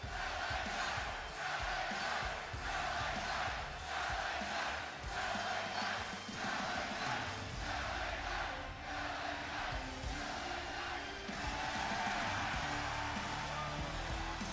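A large indoor arena crowd at a WWE Raw wrestling event in Springfield, Massachusetts, roars steadily, a dense wall of cheering and shouting that swells and stays loud throughout with no clear breaks.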